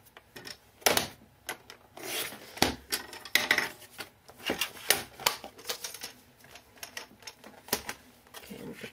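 Paper being cut for a 6 x 6 mini album made from one sheet, a run of close, irregular scraping and snipping strokes with sharp ticks and rubs, no talking.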